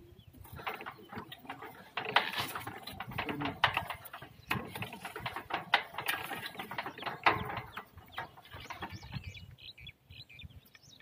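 A loose clutch chain knocks inside a running power tiller transmission, producing irregular close metallic clatters and rattles in uneven bursts over a mechanical drone, with no talking.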